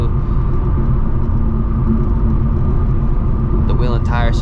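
Steady low engine rumble and road roar from a 2024 Ford Mustang GT cruising on a highway at night, loud and continuous, with someone talking over it throughout.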